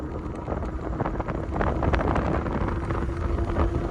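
Strong wind buffets and rumbles across the microphone in a continuous low roar with gusty swells, no voices heard.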